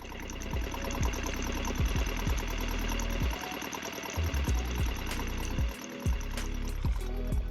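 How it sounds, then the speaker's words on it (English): A boat's inboard marine engine runs steadily at idle, its close, loud low rumble carrying a repeating knock and chug, with no talk over it. "We ran the engine"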